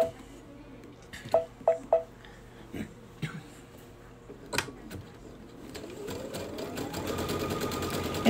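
Baby Lock sewing machine fitted with an edge joining foot, sewing a V-stitch: a few sharp mechanical clunks and brief starts, then a rising whir as the stitching runs continuously, with people talking over it.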